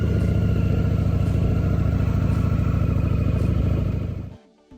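Victory motorcycle engine running close and loud, a steady rumbling idle that holds for about four seconds and then cuts off abruptly into near silence, with no talk.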